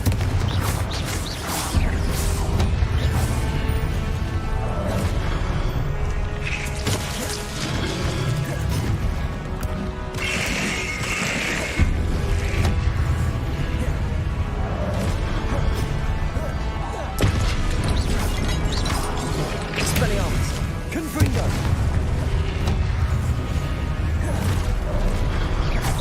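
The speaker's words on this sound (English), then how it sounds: "Confringo!" Confringo blasting spells erupt again and again in Hogwarts Legacy, loud crashing booms and smashes over a constant dense bed of game music and effects, with a voice calling out at times.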